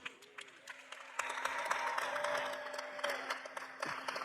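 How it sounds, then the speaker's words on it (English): Audience applause at a university commencement ceremony rises and builds from about one second, a broad sustained wash of clapping with a steady low hum underneath, moderately loud and continuing to the end. "So let's give all of those connections a round of applause, too."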